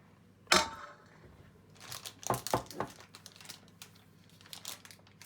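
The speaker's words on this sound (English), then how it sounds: "push the mix down the bag with the back of the spoon" A spoon presses and scrapes a messy mix down inside a bag, giving a sharp crinkle and then a cluster of rustling, crumpling bursts that fade into quieter scuffs, close and fairly faint.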